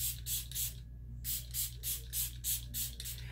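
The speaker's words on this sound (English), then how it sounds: "let me go ahead and spray some setting spray" Rapid short bursts of a makeup setting spray bottle hiss close by, about a dozen quick pumps with a brief pause near the start, over a low steady hum.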